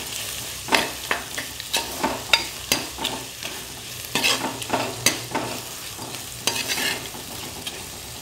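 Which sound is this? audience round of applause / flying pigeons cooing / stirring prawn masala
stirring prawn masala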